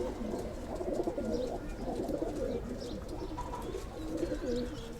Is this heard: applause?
no